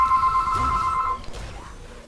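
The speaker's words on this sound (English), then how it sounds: "The phone goes off for both teams." A phone rings in a Heroes of the Storm-style esports match, a bright electronic trill for about a second over game effects, then fades as other in-game sounds continue.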